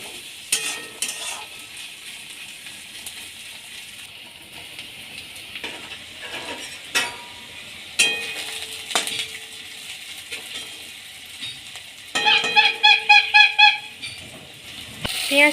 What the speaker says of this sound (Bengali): পেঁয়াজটা এবার হালকা লাল করে ভেজে নিতে হবে।